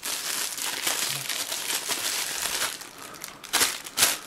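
Crinkling and crushing of packaging as a crushed, taped-up parcel of New Year decorations is opened by hand, close and fairly soft, with a couple of sharper tearing rustles near the end.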